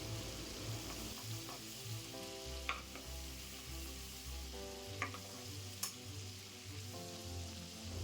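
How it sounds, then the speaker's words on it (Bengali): Prawns fry in oil in a kadai, giving a steady, soft, close sizzle with a few brief crackles and pops, over faint low background tones. "এখন চিংড়ি মাছ ভাজা হয়ে গেছে এই পর্যায়ে চিংড়ি মাছ কড়াই থেকে তুলে রাখবো"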